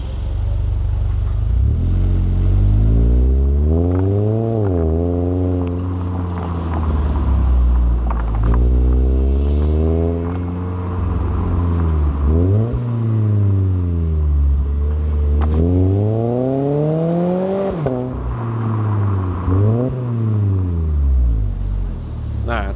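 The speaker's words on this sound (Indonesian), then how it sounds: "Langsung aja yuk kita coba sekarang kalau gua gaspol kayak gimana suaranya." A sports car with a sporty aftermarket exhaust revs hard at full throttle several times in a row, each burst rising sharply in pitch and then dropping back, over a loud, rumbling close-up engine note.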